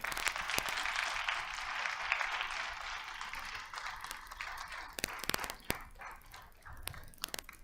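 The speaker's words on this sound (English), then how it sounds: "I think we need a big round of applause for them" An audience applauding election forum candidates at the end of a student VP External candidate forum, a steady sustained round of clapping that thins out into scattered claps.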